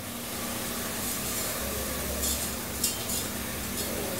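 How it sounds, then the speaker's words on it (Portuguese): Rice without oil being sautéed in a pan with a sprig of fresh rosemary, a steady soft sizzle with occasional light clinks of a utensil against the pan. "E a gente refoga assim, sem óleo, sem nada."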